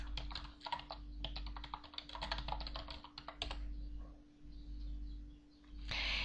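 Rapid keystrokes on a computer keyboard as a command is typed into the Aardwolf MUD text game, a steady clattering run of clicks that pauses midway, with a low constant hum underneath.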